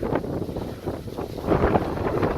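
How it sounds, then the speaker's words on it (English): Wind buffets an unshielded microphone during a night walk through the old settlement of Drayton near Toowoomba, a steady loud rumbling roar with gusts swelling and easing throughout. "I'm sorry about the wind, guys."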